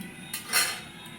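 A lid set down on a cooking pot of potatoes and water, a single short metallic clink with a brief ringing tail, fairly close and moderately loud, with no one talking.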